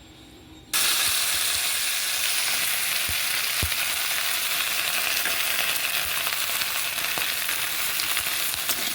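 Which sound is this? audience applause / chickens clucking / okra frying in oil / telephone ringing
okra frying in oil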